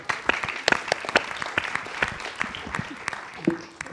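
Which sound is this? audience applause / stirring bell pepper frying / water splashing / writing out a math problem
audience applause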